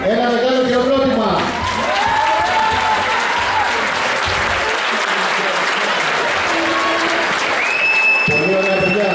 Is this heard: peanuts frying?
no